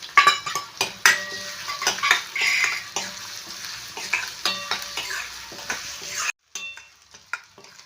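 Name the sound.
frying small onions in oil with stirring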